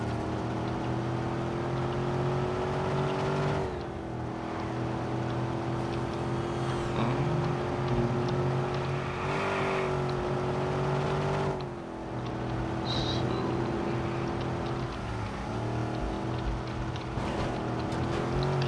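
Car in Watch Dogs driving steadily, a constant engine drone with slight rises and dips as it speeds up and eases off, close and unbroken.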